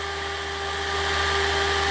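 Cooling fan of an MBK 51 hybrid moped running during a thermocontact test, a steady whirring drone with a constant tone that grows slightly louder, alone without talk.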